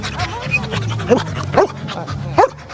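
A police search dog from a dog-handling unit, working with its handler at a demonstration for schoolchildren, gives three short, sharp yips spaced about half a second apart under a voice.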